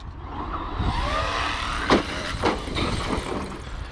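Traxxas X-Maxx RC car driving over bike park jumps outdoors, a steady motor whine with shifting pitch and a few rough thumps and scrabbles as it lands and rolls on.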